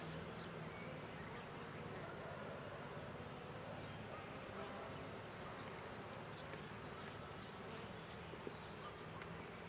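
A steady, dense buzz of many calm honeybees around a hive fills the air continuously in fine weather, with a thin high whine over it and no voices.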